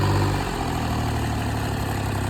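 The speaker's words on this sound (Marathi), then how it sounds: "तर कृष्णाने आज चालवला ट्रॅक्टर" A tractor engine idles close by with a steady, loud low rumble and constant vibration throughout, with no voices.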